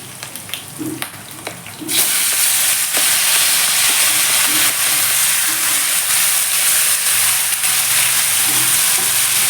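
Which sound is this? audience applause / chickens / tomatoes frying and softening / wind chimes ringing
tomatoes frying and softening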